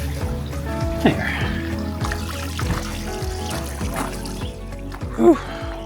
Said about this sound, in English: take a look at that water feature